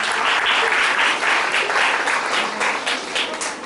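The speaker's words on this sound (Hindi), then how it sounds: "तालियां आपसे मांगी थी" At a school prize distribution ceremony in Haryana, an audience breaks into loud, dense applause that swells and ebbs slightly but keeps going without pause.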